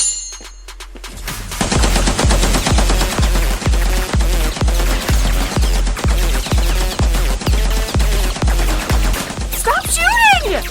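Rapid automatic gunfire rattles in a long, evenly spaced burst of loud close shots, with a brief trailing squeal at the end.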